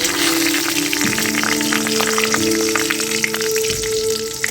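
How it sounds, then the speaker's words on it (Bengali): Whole spices, including bay leaf, fry in oil with a steady, loud sizzle and scattered pops, close up and continuous throughout. "একটু ভাজা ভাজা করে নিচ্ছি।"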